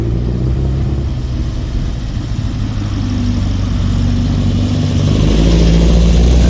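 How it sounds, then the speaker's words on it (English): A Baja Volkswagen Karmann Ghia with a reduction hub gearbox swap accelerates, its engine droning loud and close. The pitch rises and the roar builds steadily toward the end, with no talk over it. "As he accelerates, it lifts up"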